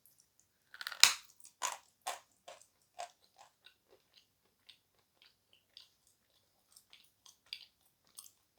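Close bites and crunches of creamy Ellin or Krasavchik-type clay chalk, one loud first bite followed by a run of softer chewing crunches that thin out and fade, with no talking.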